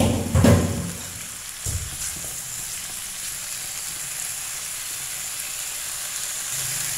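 Potatoes sizzle and fry in a pan with tomatoes, with a couple of louder bursts near the start as they hit the hot oil, then settle into a steady, even hiss.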